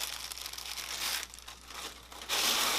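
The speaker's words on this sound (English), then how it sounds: "Original black tissue paper." Original black tissue paper from a 1991 Air Jordan shoe box crinkles and rustles continuously up close, with a louder, harsher crumpling burst at the end.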